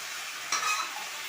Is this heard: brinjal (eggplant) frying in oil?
yes